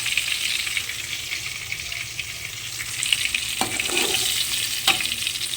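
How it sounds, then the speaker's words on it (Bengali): Surpai fish frying in oil in a pan, a steady broadband sizzle throughout with a few brief stirring clicks and scrapes near the end, close and moderately loud with no talking. "মাছগুলো আমি এখানে এপিট ওপিট করে লাল করে ভেজে নিয়েছি।"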